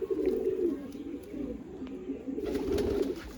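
Several pigeons coo in a steady, guttural chorus close up at a pigeon show and sale, the rolling calls overlapping throughout with light background noise.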